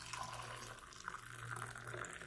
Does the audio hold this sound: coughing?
no